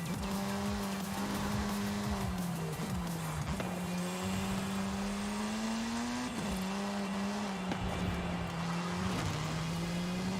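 A car in Forza Horizon races at a steady high engine drone, with its tires squealing and skidding through corners, loud and continuous throughout.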